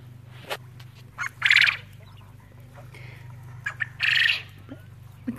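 Coturnix quail in a pen shared with a rabbit give two loud, bright squawking calls at close range over a steady low hum, with short rustles and faint chirps between.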